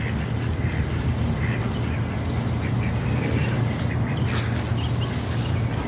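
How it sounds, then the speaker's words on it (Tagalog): A dense chorus of bathing ducks in a garden quacks continuously over a loud, steady background rumble, the calls blending into one noisy mass. "yung mga pato na naliligo"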